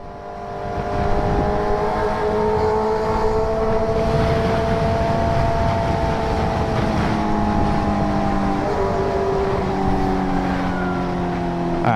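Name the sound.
motorcycle riding on the road, lane splitting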